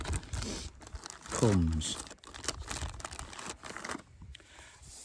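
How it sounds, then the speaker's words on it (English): Plastic carrier bags full of books rustle and crinkle up close in irregular bursts while a person talks over them. "Everything's in my plastic bags,"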